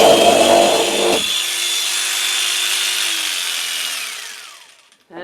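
A power drill bores into wood at close range, first biting and grinding, then spinning on with a high steady whine that winds down as the motor stops.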